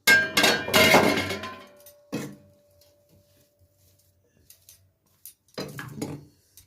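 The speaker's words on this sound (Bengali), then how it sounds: "আচ্ছা, এবার খুলছি ঢাকনাটা।" A lid comes off a covered pan of soft rice-flour roti dough. It opens with a loud, close clatter and clink, followed by a few fainter taps and scrapes amid near-quiet.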